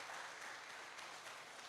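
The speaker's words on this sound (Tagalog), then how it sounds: "Isang malakas na palakpak po." Audience applause at a church celebration service, a steady even wash of clapping that stays fairly faint and distant for under two seconds.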